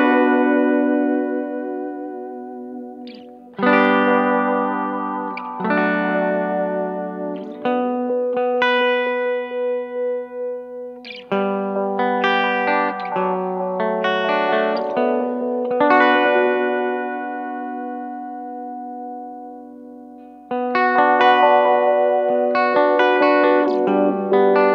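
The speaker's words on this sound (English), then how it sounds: "it's just an echo that swept frequency back and forth" An electric guitar runs through a Line 6 HX Effects unit set to a swept-frequency echo delay, playing loud, sustained notes and chords whose repeats shimmer and shift in pitch, with clear attacks and long ringing tails.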